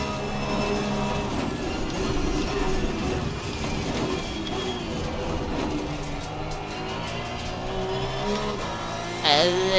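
A race car in Assetto Corsa Competizione brakes hard over the bumps at the Nordschleife, its engine droning loudly and steadily throughout, with a brief tire squeal near the end.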